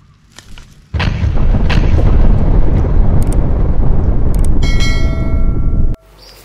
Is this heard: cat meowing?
no